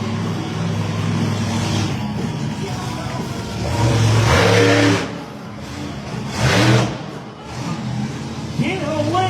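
Monster truck with a 1,500-horsepower engine roaring through a freestyle run at an arena, loud revs surging and easing in several bursts under crowd and announcer noise, with speech mixed in.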